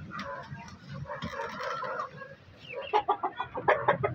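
A native hen about to lay eggs clucks close by, a run of soft throaty murmurs followed by a quick series of louder, sharper clucks.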